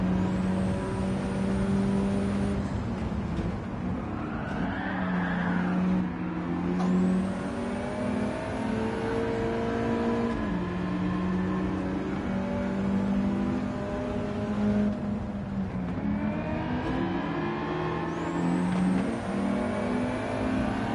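A stock Mitsubishi Evo 9 on soft racing tyres races in Gran Turismo 7. Its engine revs up again and again, with pitch climbing through each gear and short dips at the shifts, loud and close.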